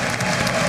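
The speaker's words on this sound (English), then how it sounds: "No, this is a straight clap." Packed congressional chamber applause for the President of the United States at a State of the Union address: a dense, steady wash of clapping from a large crowd, with faint voices underneath.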